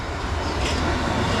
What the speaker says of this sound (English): arriving in now is another Metropolitan Line train, this one heading to Aldgate